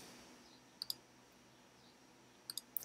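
Computer mouse clicking while a new WordPress page is edited, a few quick, crisp clicks in pairs near the start and a cluster near the end over quiet room hiss.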